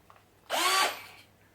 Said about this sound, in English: a cordless drill.